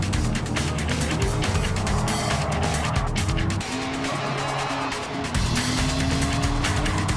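De Tomaso Pantera race car at speed during a race, a close, loud engine snarl with gear changes and rising pitch sweeps, joined by bursts of tyre squeal and skidding throughout.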